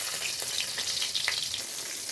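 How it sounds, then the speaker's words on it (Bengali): Prawn-stuffed onion stalks fry in hot oil with a steady, close hiss and crackle, scattered sharper pops rising through the continuous sizzle and no voices. "আরও কতগুলো আছে সেগুলোকেও ভাজতে দিয়ে দিই।"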